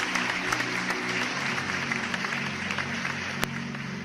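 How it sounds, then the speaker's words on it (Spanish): A church congregation applauding, a steady mid-level wash of clapping in a reverberant room with a low hum underneath and one sharp click near the end. "Un aplauso fuerte al Señor."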